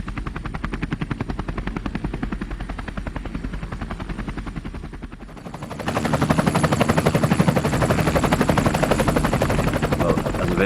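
A helicopter's rapid rotor chop pulses steadily throughout, growing louder and closer about halfway through.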